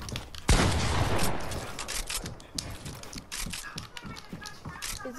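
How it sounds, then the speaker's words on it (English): Rapid drum gun fire in Fortnite, a sharp opening blast followed by a sustained rattling stream of shots, fairly close and loud. "Oh, he's got the drum gun."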